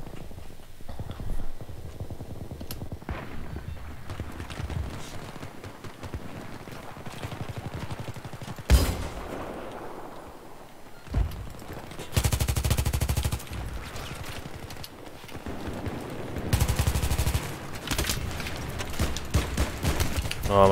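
Bursts of ACW-R rifle fire with holosight, foregrip and heavy barrel in a Battlefield 3 multiplayer match, with sharp single shots and two long loud automatic volleys near the end, under occasional player talk.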